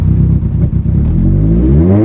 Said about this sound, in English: That's me opening the throttle. It's backfiring now.